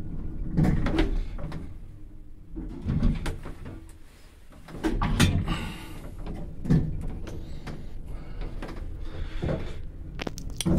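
Tram doors in Kraków closing, heard as a series of sharp clunks and thumps mixed with sliding rattles, moderately loud against the vehicle's background rumble.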